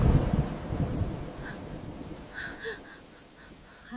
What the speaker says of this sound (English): First a drizzle, then suddenly a heavy rain started.